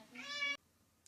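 A single drawn-out cat meow, clear and fairly close, rising then cut off, followed by near silence and a faint brief sound at the end.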